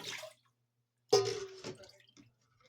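Water poured out of a jar of canned pears, a short splashing pour of about half a second after a brief earlier trickle, close by and with nobody talking over it.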